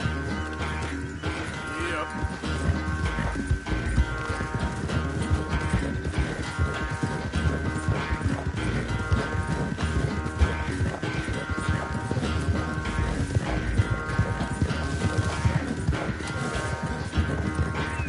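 Steady clip-clop of horse hooves in a video game runs throughout, mixed with a continuous rumbling background and occasional voices.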